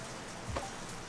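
Steady rain falling outdoors on a wet morning while a Nissan 240 rally car waits to be loaded; a soft, even patter continues throughout with one slightly louder drip near the middle.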